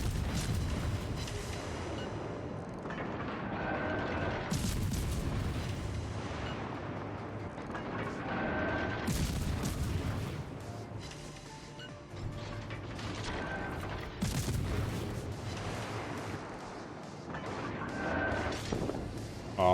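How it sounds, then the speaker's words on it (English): Naval gunfire in World of Warships from a Tier 6 Cossack destroyer battle, heavy distant booms and rumbling salvos recurring every few seconds at low volume, with mechanical clatter between shots. "Shooting while his guns are turned the wrong way."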